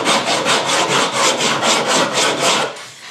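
Rough sandpaper rasps back and forth along a wooden edge marked by a bandsaw, a loud, steady run of about ten rhythmic strokes that stops shortly before the end.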